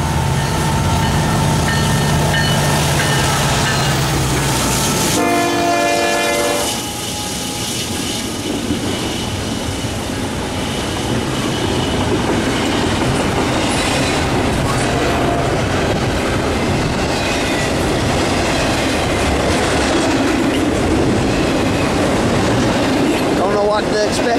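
Norfolk Southern intermodal freight train led by an SD70ACe locomotive passing near Gastonia, a loud continuous rolling roar with rail noise filling the whole stretch, briefly preceded by a steady horn-like tone.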